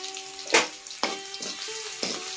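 Crushed garlic and small onions frying in a pan, with several sharp bursts of sizzling spatter over a quieter crackle, accompanied by faint tonal humming in the background.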